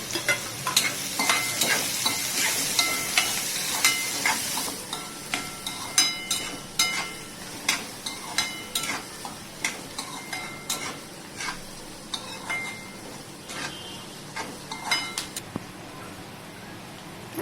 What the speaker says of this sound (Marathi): मस्तपैकी कांदा बरतून घेऊया